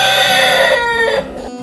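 Chickens crowing and clucking at a farm house, loud and close, a rooster's drawn-out crow carrying over a steady background of fowl noise, with no one speaking.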